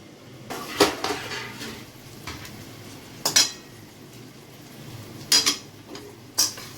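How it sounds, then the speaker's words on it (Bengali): A lid lifted off a cooking pot while a pumpkin-like ash gourd dish simmers, giving a few sharp metallic clinks and clatters spread over several seconds, close and fairly quiet, with no talking. "একটু ঢাকনাটা খুলে দেখি"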